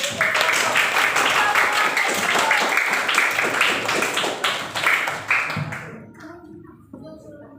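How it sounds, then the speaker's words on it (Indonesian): A classroom of students claps together, dense and loud for several seconds, then the applause fades out with a few last claps. "Coba diberi tepuk tangan dulu."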